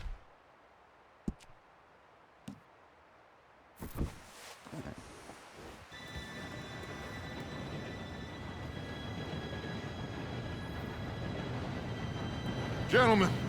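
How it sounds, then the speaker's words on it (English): A train approaches in the Red Dead Redemption 2 video game, starting with a few scattered knocks, then a steadily growing rumble of rolling wheels and carriages that builds in loudness toward a high squeal at the end. "Train should be here any minute now."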